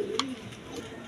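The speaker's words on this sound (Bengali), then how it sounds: "এই যে এটা জার্মান বিউটি কবুতর" A German Beauty pigeon coos softly, with a brief higher call near the start over faint background hum, fairly close but quiet.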